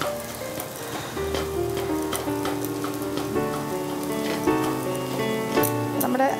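Scrambled sweet sizzles steadily in a pan while being stirred and sautéed until browned, with a continuous frying crackle broken by periodic clinks and scrapes of the stirring utensil.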